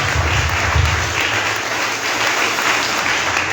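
A church congregation bursts into steady, dense applause during a sermon, the clapping loud and continuous throughout with a low murmur beneath it.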